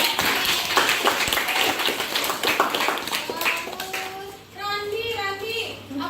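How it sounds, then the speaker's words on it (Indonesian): Classroom of students clapping for a classmate in an Indonesian physics lesson, a dense burst of hand claps with children's voices mixed in, fading into speech near the end. "kasih tepuk tangan dulu"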